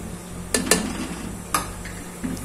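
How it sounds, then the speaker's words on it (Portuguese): Stroganoff sauce with ketchup is stirred in a pan, with a few sharp spoon clinks and scrapes against the metal over a low sizzling background. "Deixa eu mexer."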